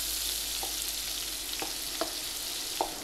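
Fresh garlic hits onions frying for crockpot beef short ribs, producing a dense, close sizzle with a few sharp utensil taps against the pan.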